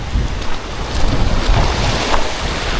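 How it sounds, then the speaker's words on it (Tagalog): Steady wind buffeting the microphone outdoors near water while fishing, a constant rushing roar with low rumbling gusts throughout and no voices. "Medyo may hangin-hangin dito."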